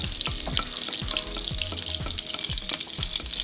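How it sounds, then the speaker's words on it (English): Butter and olive oil melting in a pan on medium heat, an even bright sizzle with a regular low thumping beat underneath, steady and close with no voice over it. "put in your butter and your olive oil. As that's melting through"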